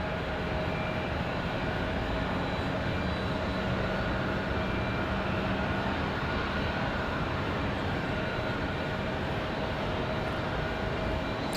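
A Breeze Airways jet takes off from the runway at Raleigh-Durham International on a windy day, a loud, continuous roar of engines and rushing wind that holds steady throughout.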